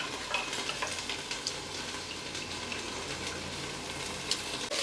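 Ivy gourd (dondakaya) fries in a pan with a soft, even sizzle and scattered crackles, quiet and steady throughout.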